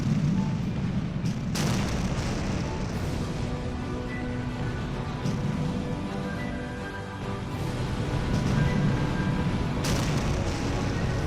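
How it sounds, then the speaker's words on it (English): Napoleonic battle at Quatre Bras with heavy artillery barrages as infantry columns advance, a continuous low rumble of distant cannon fire with sharper booming bursts standing out over the din. "as they march under heavy artillery barrages"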